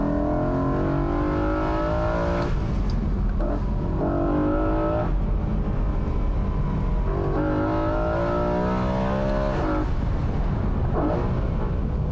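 A 2008 BMW M3 E93 engine pulls hard on a mountain road, rising and falling in repeated revving sweeps with clear gear changes, loud and close throughout with no talk.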